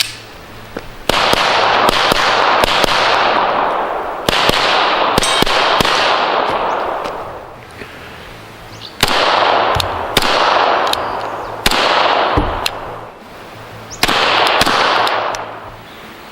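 Sharp gunshots from a Canik TP9SA pistol fired outdoors in the woods ring out in several rapid strings of shots, each crack loud and close with a quick echo, separated by short pauses.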